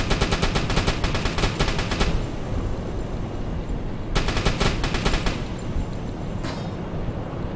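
Bullets striking a submarine hull in the game Uboat, two long bursts of rapid, evenly spaced metallic impacts separated by a pause, loud and close.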